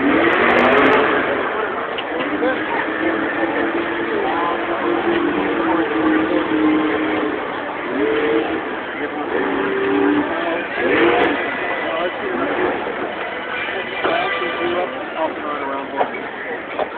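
Truck engines at a county fair truck show rev and roar continuously at close range, rising and falling in loud bursts, with a crowd and an announcer's voice faintly underneath.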